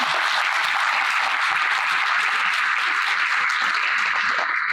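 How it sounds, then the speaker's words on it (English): Dense, sustained audience applause at an Islamic talk on addiction, loud, even clapping filling the whole stretch without pause. "I want you all to give these brothers another round of applause"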